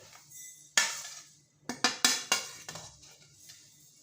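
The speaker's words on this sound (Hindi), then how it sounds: "पहले हम अजवाइन भून लेंगे।" Carom seeds (ajwain) stirred in a pan while roasting, with a sharp metallic clank followed by a quick series of scraping, clinking strokes of the spoon against the pan.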